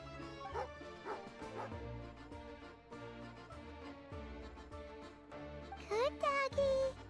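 Dog barks, yips and whimpers from a character in Genshin Impact, heard over game music with a voice present. The bright yelping calls cluster near the end.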